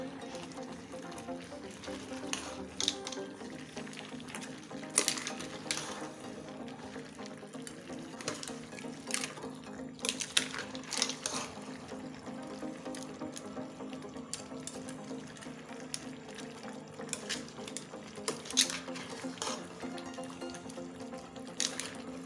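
Plantain pottage simmering and being stirred in a pot on the stove, with steady bubbling and intermittent scraping and clinking of a spoon against the pot, close and moderately loud throughout.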